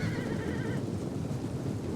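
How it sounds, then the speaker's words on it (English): A horse neighs in a shrill, wavering whinny amid a dense battlefield din of cavalry in Total War: Rome 2, the cry fading after a moment into continuous rumbling combat noise. "Horses die really easily to those rocks."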